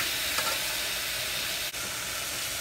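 Tomatoes frying with onion and green chilli for thengai pal sadam, a steady close sizzle with a faint stir near the middle and a brief dip in the noise.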